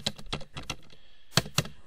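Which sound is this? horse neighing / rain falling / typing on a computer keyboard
typing on a computer keyboard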